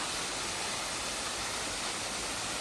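Steady, dense rush of falling water, loud and continuous from a nearby mountain waterfall in Shizuoka, Japan, with no voices over it.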